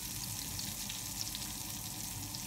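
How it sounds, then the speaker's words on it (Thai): Chili and garlic frying in a hot pan, a steady loud sizzle with a dense crackle throughout and no talking. "นี่พริกกับกระเทียมก็ใส่ไปเลยใส่เลย แรงจัดแล้วก็เบาเตาลง"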